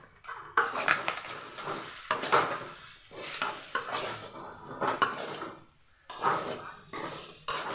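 Chicken liver being stirred in a frying pan: a spoon scrapes and clatters against the metal in uneven strokes with short pauses, over a soft sizzle underneath.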